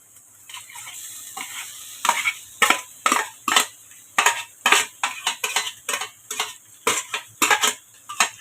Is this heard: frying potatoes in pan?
yes